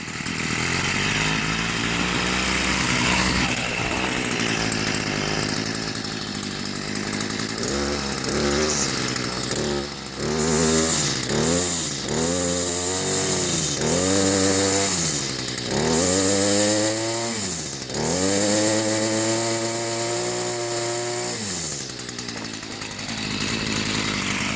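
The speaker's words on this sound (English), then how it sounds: "this is how I'm going to start it. You hear it kick over like that, take the choke off." A chainsaw being used for winter firewood kicks over and starts, its two-stroke engine revving loudly in repeated rising bursts before settling into a steady, close, continuous run.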